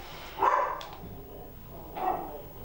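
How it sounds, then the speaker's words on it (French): A dog barks twice, moderately loud and somewhat distant, with a pause of over a second between the two barks; no voices. "On va attendre que le chien arrête d'aboyer."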